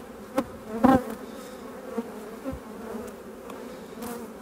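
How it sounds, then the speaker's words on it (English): Honey bees from a recently merged colony buzz close by in a low, steady drone, with a few louder passes as individual bees fly near. "Few bees there,"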